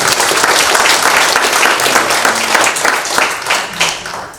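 Loud, sustained applause from a lecture audience at a Korean evangelical spirituality association seminar, dense clapping filling the room for several seconds and tapering slightly near the end, with no talk over it.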